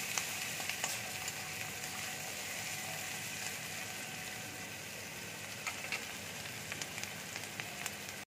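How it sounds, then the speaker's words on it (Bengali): Capsicum fries lightly in hot oil, making a continuous soft, even sizzle with faint crackles and no talking. "এবার আমি ক্যাপসিকাম দিয়ে দিচ্ছি। ক্যাপসিকামটাকে আমি হালকা করে ভেজে নেব।"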